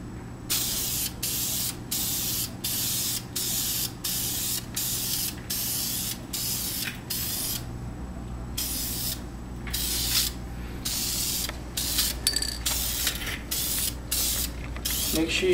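An aerosol spray paint can coats brake calipers and drums in a rapid series of short, sharp hissing bursts separated by brief pauses, loud and close.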